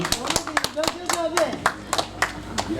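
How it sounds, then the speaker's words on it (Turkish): Guests at an outdoor tea garden clapping for a couple, a sparse rhythmic series of distinct nearby hand claps over talk and background music. "Bir alkış alabilir miyiz çiftlere?"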